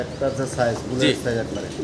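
A large pair of Andalusian-colour show king pigeons coo in soft, low, repeated phrases, close by, under someone talking.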